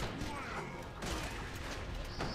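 A barrel blows apart in Borderlands 2 with a burst of crashing, gunfire-like bangs, close and dense, followed by scattered debris noise.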